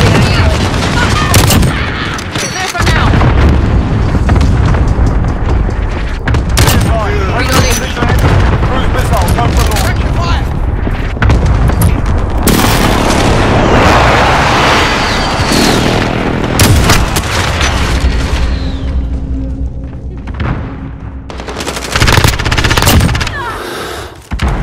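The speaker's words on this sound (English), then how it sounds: "Allied cluster strike inbound." Cluster strike explosions in Modern Warfare erupt amid heavy gunfire, loud booming blasts and rattling shots packed together over a sustained, intense stretch of combat, with occasional voices underneath.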